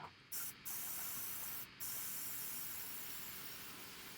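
An airbrush sprays paint onto a Dark Eldar Venom miniature, a close, steady airy hiss that cuts out briefly a few times in short bursts before running continuously and fading slightly; no speech.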